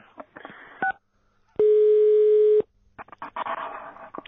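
A telephone number is dialed, with a single steady electronic tone lasting about a second, framed by handset clicks and rustling.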